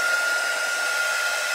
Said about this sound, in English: we're going to speed this up with my little dryer, my handy dandy dryer.